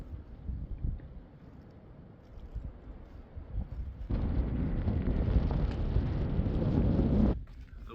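Steady, cold wind roaring and buffeting against the microphone in a sustained gust on the Appalachian Trail, after a quieter, rumbling stretch; no voices.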